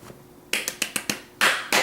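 Crisp finger snaps ring out alone at close range, a quick irregular run of about eight sharp clicks with short gaps between them.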